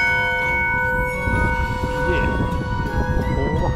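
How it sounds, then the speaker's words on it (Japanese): A bell rings out at the Nanjo expressway service area and Minami Echizen roadside station in Fukui, its long, sustained metallic tones hanging over nearby people chatting. "夜間は鐘鳴らすって。"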